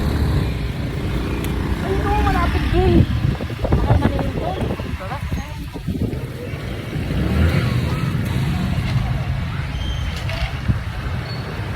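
A motor tricycle engine drones steadily with wind buffeting the microphone, while people talk over it throughout.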